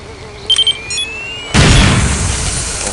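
A loud explosion from a bomb in the game Counter-Strike: Condition Zero bursts in suddenly and fills the sound with a broad roar that slowly fades, after a few short electronic beeps and tones.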